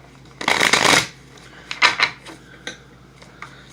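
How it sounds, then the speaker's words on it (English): Tarot cards are riffled and shuffled close by, one long burst followed by several shorter rustling flurries and a few light taps as the deck is handled. "You guys heard me shuffle right, so it's not fake."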